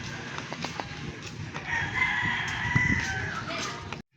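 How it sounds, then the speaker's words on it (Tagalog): A backyard breeder's rooster lets out one long, clear crow close by, rising and holding before cutting off, over faint outdoor background noise. "Manok ni Toto."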